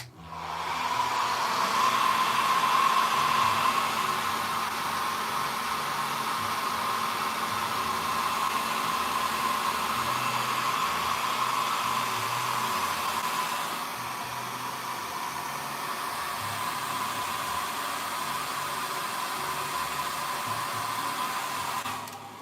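A hair dryer blows continuously at close range, a loud steady whooshing roar that dips slightly partway through and then carries on evenly until it cuts off.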